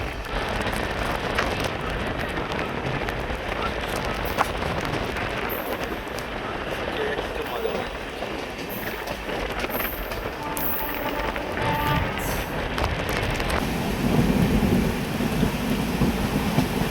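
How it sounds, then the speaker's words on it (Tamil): Steady heavy rain pours outside a train approaching Madurai Junction, with low thunder rumbling through the constant hiss over seventeen seconds. "மழை பெய்ய வர ஆரம்பிச்சிருச்சு"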